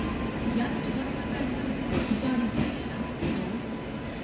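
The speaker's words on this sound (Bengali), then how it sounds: "এই যে ট্রেন ঢুকছে, এটাতেই আজকে আমাদের জার্নি।" Train number 12302, the New Delhi–Howrah Rajdhani Express, rumbles steadily into a station platform, with faint rhythmic wheel clatter and a low continuous roar throughout.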